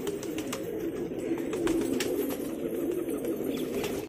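Kaldum pigeons kept by a breeder give a steady, continuous cooing murmur, soft and moderately close, with occasional faint chirps and wing rustles mixed in; nobody speaks.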